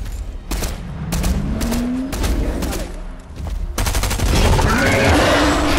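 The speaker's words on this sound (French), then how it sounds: "Ça tire encore" Rapid gunfire in the video game Fortnite, with a string of sharp, repeated shots and a steadier burst near the end, loud and close, with a player speaking in between.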